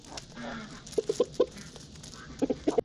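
Quick sharp taps in small bursts as chickens peck at corn, over soft clucking and low background noise.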